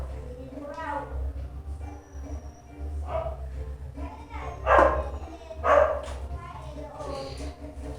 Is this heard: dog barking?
yes